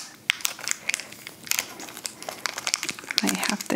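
Crinkly plastic Lost Kitties toy packaging being opened, giving rapid irregular crackles and rustles up close, with speech audible over the crinkling.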